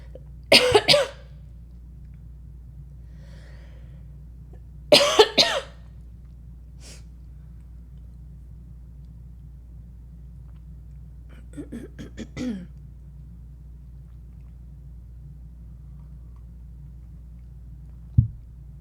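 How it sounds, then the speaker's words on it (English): Several short, sharp coughs from one person indoors, in two close bursts near the start and a softer cluster later, separated by long near-silent gaps over a low steady hum. "and some coughs."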